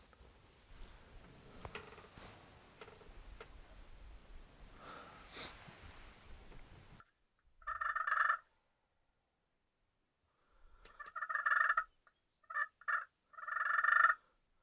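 A wild turkey gobbler answers on a frosty morning, with several loud, bubbling gobbles in separate bursts from moderate distance, heard alone after a stretch of quieter outdoor background.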